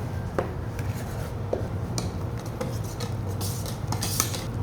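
Mango shortcake cake batter stirred in a bowl, a steady scraping and clinking of utensil against the bowl with scattered sharper taps, close and moderately loud, no talking.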